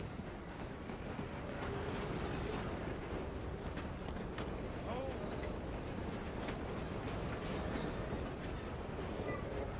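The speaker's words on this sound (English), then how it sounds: "I'm gonna ride ahead and stop the train" Train in the Red Dead Redemption 2 video game rumbling steadily at close range through a dense mechanical roar, with faint hoofbeat-like clatter mixed in and no talk.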